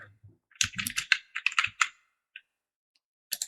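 Quick bursts of close, crisp key clicks come from typing on a computer keyboard while building a student result sheet in Excel, with a clustered run of strokes, a short gap, then a few more taps.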